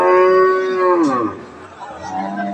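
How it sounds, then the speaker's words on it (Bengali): A Friesian dairy cow at a cattle market gives one long, loud, close moo that bends downward before fading, followed by faint background murmur. "এটা একটা ফ্রিজিয়ান দুধের গাভি"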